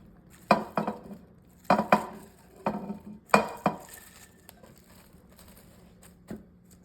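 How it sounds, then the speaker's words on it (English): Half a head of cabbage tumbles into a pan with sausage, giving several sharp clattering knocks in quick clusters, fairly close, with a few quieter taps trailing off. "we're gonna add 1/2 head of cabbage to it"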